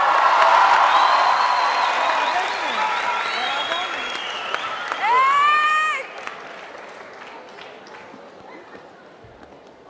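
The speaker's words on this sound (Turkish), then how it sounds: "O zaman alkışlarla bravo." A live studio audience at a Turkish TV singing talent show claps and cheers after an arabesque performance. Strong applause at first, whoops and shouts rising briefly mid-way, then the clapping thins and fades toward the end.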